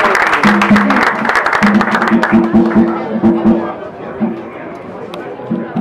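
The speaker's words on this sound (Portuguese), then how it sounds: "Queria pedir uma salva de palmas pelo..." A round of applause at a Brazilian religious anniversary celebration for Pomba Gira Rainha, lively crowd clapping mixed with chatter and singing voices, loud and close, tapering off toward the end.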